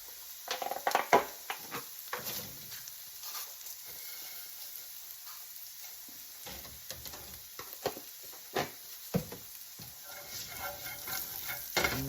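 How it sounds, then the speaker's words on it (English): Garlic sizzles in a pan of browned bacon bits while a utensil scrapes and stirs, sharp scraping strokes breaking over a soft, continuous frying hiss, close and fairly quiet. "I'm working to scrape up as much of these browned bacon bits as I can"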